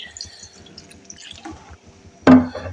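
Water is poured into a pressure-cooker pot holding chicken and lentils for shami kebab, arriving as a short, loud splashing burst near the end after faint dripping and quiet kitchen sounds.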